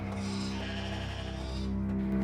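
A single sheep gives one sustained, wavering bleat, close and fairly loud, lasting about two seconds.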